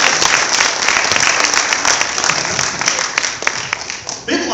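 Audience at a high school after-prom hypnosis show applauding a volunteer, a dense loud burst of clapping from a crowd that continues for several seconds and fades at the end.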